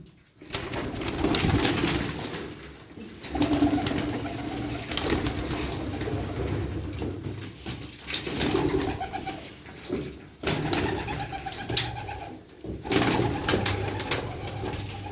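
A flock of pigeons, including Baska, Bango, Dönek, Çorum Çıplağı and Hünkari breeds, coos continuously nearby, overlapping throaty calls with occasional rustles and wing flaps, steady and fairly loud throughout.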